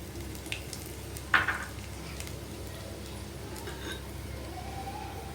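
Ingredients hit hot oil in a pan, giving a soft, steady sizzle throughout with a brief clink of a utensil early on; fairly quiet and close.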